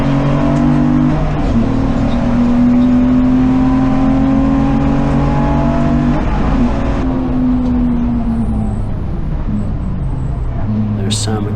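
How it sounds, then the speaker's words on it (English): A BMW E36 328i race car flies past at Silverstone during a national race, its loud engine note sweeping pitch with a steady drone throughout, mixed with other engine noise close by. "There's Sam McKee flying by in the E36 328i"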